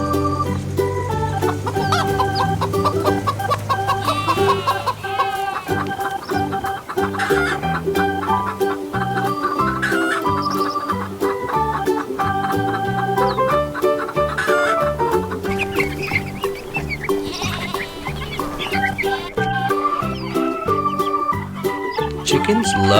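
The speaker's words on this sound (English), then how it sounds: "Can you cluck like a chicken?" Chickens cluck steadily and close by for a long stretch, a busy farmyard chorus of fowl with occasional crowing, rising and falling throughout with no talk over it.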